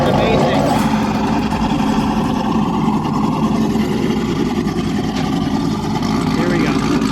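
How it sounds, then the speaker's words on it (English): A Corvette Z06 fitted with a Corsa exhaust runs close by with a deep, throaty rumble and steady low drone, with people talking over it. "That Corsa exhaust sounds amazing."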